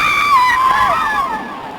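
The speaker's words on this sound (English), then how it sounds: "But with my scream I heard other screams echoing from the farthest end of the palace." A man's scream in a 1958 Hercules film, a sustained wailing cry lasting nearly two seconds, loud and strained, with other distant screams echoing behind it in a palace setting.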